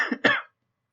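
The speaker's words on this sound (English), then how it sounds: "I can't stop coughing." A person gives two quick, harsh coughs close to the microphone, then silence.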